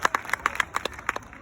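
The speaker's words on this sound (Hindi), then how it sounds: "सभी लोग आज इस शाला के बच्चों और शाला परिवार के लिए जोरदार तालियां बजाएं" Applause from the audience at a school annual function at M M Academy: a sparse run of individual claps at a moderate distance, uneven and thin rather than a full roar, with no talking over it.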